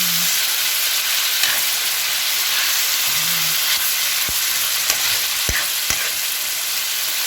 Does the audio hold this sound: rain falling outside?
no